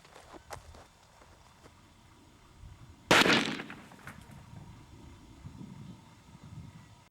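A single sharp report rings out from a .44 Magnum revolver firing a 250-grain XTP bullet into clay blocks at 50 yards outdoors, the crack standing alone amid faint rustling and footsteps, echoing briefly.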